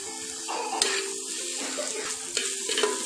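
Chopped tomato sizzles in a pan over ginger and green chili paste for a Bengali bhoger khichuri, a steady close frying hiss with a few soft stirring scrapes.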